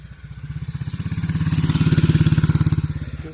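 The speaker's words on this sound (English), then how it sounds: "It's an old, I think that was a BSA. It's an old military bike, British military bike." An old BSA British military motorcycle going past in the countryside, its single-cylinder engine thumping in a steady rapid beat that swells as it nears and then fades slightly, heard alone.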